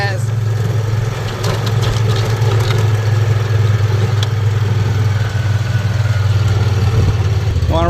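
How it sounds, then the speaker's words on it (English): A 670 golf cart is driven, its motor giving a steady, close mid-pitched drone with light clatter and some talk alongside. "I get to drive the golf cart. This thing's fast."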